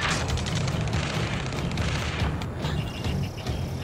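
Dense battlefield barrage from Ace Combat 7, with continuous rumbling booms, artillery-like blasts and scattered gunfire layered into a loud, unbroken wall of combat noise, no speech.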